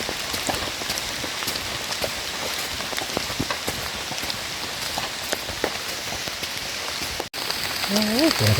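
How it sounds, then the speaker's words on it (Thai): Steady heavy rain pours down, a dense continuous hiss of drops on surfaces, with a brief break near the end followed by a faint tone. "ฝนตกมากแล้ว"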